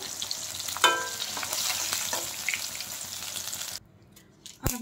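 Fish fries in oil for a fish curry with a close, busy sizzle and a sharp utensil scrape early on. The sizzle cuts off abruptly near the end, followed by a brief clatter.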